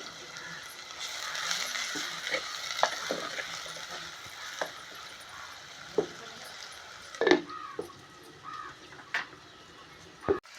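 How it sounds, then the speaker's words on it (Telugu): Sliced onions cooking with salt in a pan, a low steady sizzle with scattered stirring clinks and scrapes, close and quiet, with faint background sounds. "కొద్దిగా ఉప్పు వేద్దామండి ఉల్లిపాయ మగ్గుద్ది"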